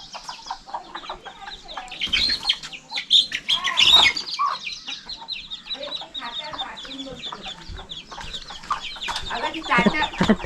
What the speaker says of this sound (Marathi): अरे ही कोंबडी बाहेर आली